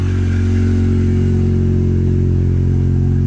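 The engine of a cheap old van with a rotted-out muffler idles loudly after being brought back to running order, giving a steady, unbroken throb with a slightly rough, clattery edge, close and alone.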